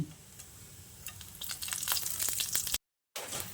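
Bay leaves, whole cumin and asafoetida frying in hot oil, a crackling sizzle that grows louder and busier with sharp pops, cut by a brief silence before the frying resumes, no voices.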